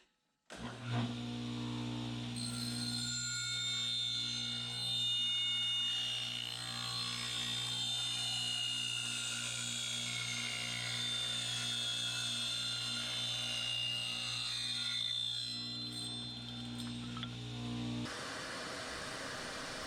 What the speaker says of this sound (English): I'll take it over to the table saw to rip off that last little inch.